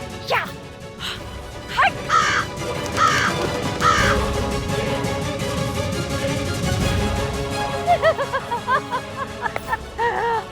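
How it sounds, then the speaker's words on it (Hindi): A crow caws several times, loud and nearby, in short harsh bursts spread through the clip, with some rustling and scattered background noise between the calls. "अरे कौवा काहे उड़ा दी?"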